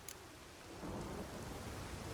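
Thunderstorm in The Witcher 3: Wild Hunt, with steady rain hiss swelling into a broad, rumbling roll of thunder, loud and wide, heard alone without speech.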